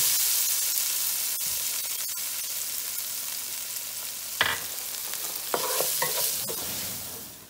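Green chillies with turmeric and salt stirred in a hot pan, a continuous soft sizzle broken by a few distinct scraping stirs of a utensil against the pan in the second half.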